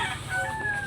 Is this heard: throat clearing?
no